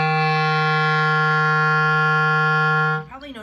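A clarinet sustains a single low F for about three seconds, a steady, loud, reedy tone rich in even overtones, played alone before cutting off into a brief breath of room noise.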